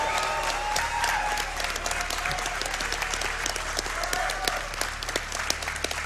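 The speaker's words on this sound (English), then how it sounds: "let's get some noise out here in the crowd" Crowd at a speedrunning marathon event applauding and cheering, a dense, steady wash of clapping with scattered whoops, sustained throughout.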